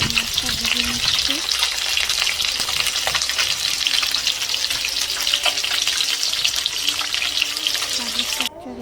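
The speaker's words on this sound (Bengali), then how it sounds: "মাছটা ভেজে নিচ্ছি" Fish frying in a pan for a home-cooked meal, a steady loud sizzle and crackle of hot oil throughout, with occasional soft clinks before it cuts off near the end.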